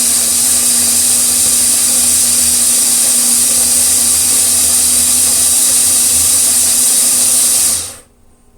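An OXO electric coffee grinder grinding coffee beans gives a steady, loud whirring hum with an airy hiss, running evenly for nearly eight seconds before cutting off abruptly into quiet.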